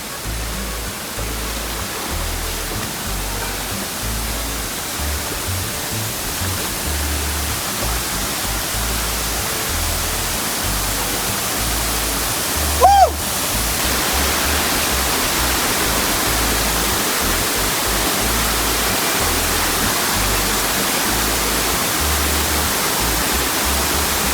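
A waterfall near Mumbai pours steadily in a dense, continuous roar of rushing water, loud and close, with no voices.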